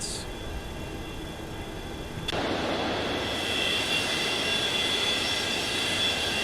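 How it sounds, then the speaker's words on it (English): Airbus airliner taxiing toward the runway in a flight simulator, a steady engine whine and rumble that swells into a louder, broader roar partway through, with no talking. "then we're taxiing out to the end of the runway"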